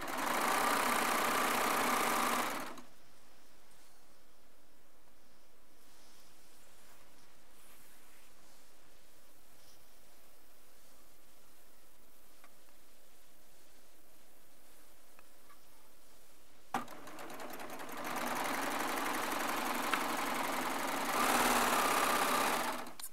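Serger sewing machine stitching strips of jelly roll fabric and trimming the selvages, a fast loud whirring hum in two bursts, about three seconds at the start and six seconds near the end, separated by quiet.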